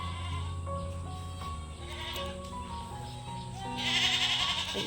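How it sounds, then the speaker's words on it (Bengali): Goats bleat in drawn-out, wavering calls, one after another, fairly close, with a louder, higher bleat near the end. "এই বাড়িতে ছাগলগুলো ডাকছে বাম্বা করে।"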